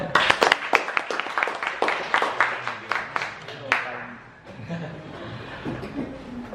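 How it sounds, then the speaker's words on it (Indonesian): A seminar audience at a literacy school event bursts into applause with scattered laughter, clapping dense at first and then thinning out as a few voices murmur near the end. "Tepuk tangan lagi buat beliau."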